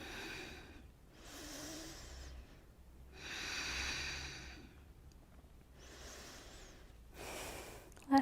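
Slow, deep breaths during a yoga pose come in four or five long, even cycles of soft airy inhales and exhales, close and quiet, with a brief louder puff at the end.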